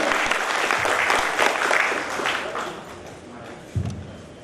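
At a healthy living seminar, the audience gives a welcoming round of applause for a doctor: dense, sustained clapping from many people that gradually thins out, ending with a single close thump.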